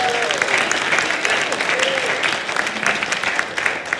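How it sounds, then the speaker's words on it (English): An audience at a livestreamed talk on the seven spiritual laws of success applauds news of a matched donation, a lively, continuous round of clapping with faint whoops and voices mixed in throughout. "You may clap for that."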